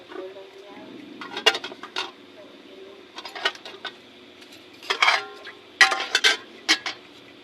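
Pancit canton noodles with cabbage being stirred in a pan, giving scattered clinks and scraping bursts of utensil against metal in a few uneven clusters over a steady low kitchen background.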